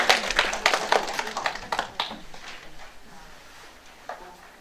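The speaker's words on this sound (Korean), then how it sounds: "다시 한번 큰 박수 부탁드리겠습니다" An audience applauds at a university-admissions seminar in a hotel ballroom, a dense burst of clapping that is loudest at the start and then thins and fades over a few seconds.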